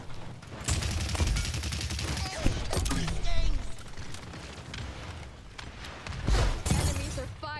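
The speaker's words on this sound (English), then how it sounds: "Enemies are firing on me." Enemy gunfire in the Paladins video game, bursts of rapid shots and crackling impacts with heavy thumps, loud and intermittent amid battle noise, with a voice speaking over it.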